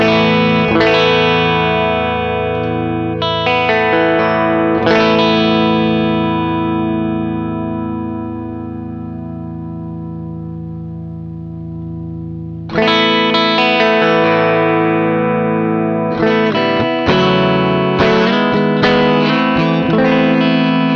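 Electric guitar played through a Danelectro Fish and Chips EQ pedal, with sustained chords and single notes that ring out, a pause midway, then denser strummed passages, loud and alone with no talk.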